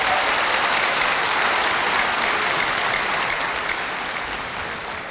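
Concert audience applauding steadily for a guest artist introduced on stage, a dense, sustained wash of clapping from a large crowd that holds for several seconds and eases off slightly at the end.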